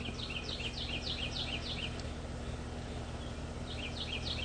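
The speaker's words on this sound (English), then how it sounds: "You can hear the birds, you can hear the rooster, hear the locusts" Birds at sunrise chirp in quick repeated bursts over a steady low electrical hum, with a pause in the middle before the chirping resumes; no rooster or locusts stand out clearly.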